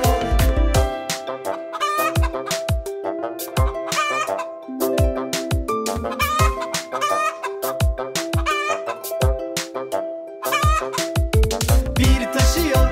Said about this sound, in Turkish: onun evinde tavuk yaşıyor